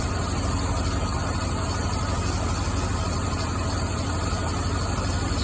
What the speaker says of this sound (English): Spark plug wire arcing against the header. Yep, every time it does, there's a sputter.